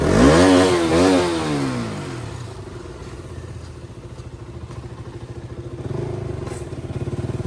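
A KTM RC 200 motorcycle fitted with a snake exhaust is heard close up. It revs loudly, then settles into a rough, throbbing idle with a fast pulsing beat and rises again near the end.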